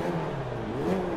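A small front-wheel-drive car in Forza 5 revs its engine, a brief loud rising whine with a pitch that sweeps up and wavers over a rough, buzzy base.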